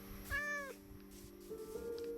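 A Minecraft cat gives a short, clear meow, then a second softer, drawn-out mew follows a moment later over quiet background game sound.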